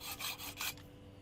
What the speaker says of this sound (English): We still need to use the hacksaw to get the bit where the spring perch is quite high.